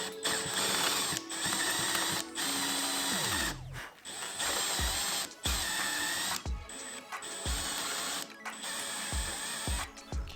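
A small drill bores magnet holes into a wooden Gundam model part, running in long whirring bursts separated by brief pauses and short stops, close and loud, with no talk.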